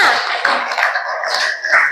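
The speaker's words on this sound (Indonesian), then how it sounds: "Tepuk tangan buat kakaknya." Classroom students clapping for a classmate, a short burst of sharp, close hand claps lasting a couple of seconds.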